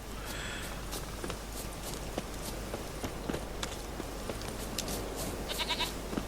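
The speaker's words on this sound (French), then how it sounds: "Bonjour la chèvre." A goat bleats in The Witcher 3 game world, its short repeated cries set against a steady ambient bed with light footstep-like clicks, moderately loud with no talk.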